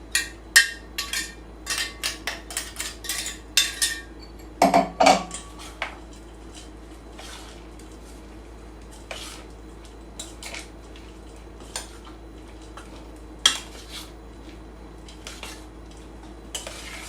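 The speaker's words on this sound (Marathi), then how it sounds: "शेंगदाण्याचं कूट आपण साबुदाण्यामध्ये टाकून मस्त असं पण मिक्स करून घेऊया." A spoon stirring crushed peanuts into sabudana khichadi in a pan, with irregular metallic scrapes and clinks, busiest early on and then thinning to sparse, near taps.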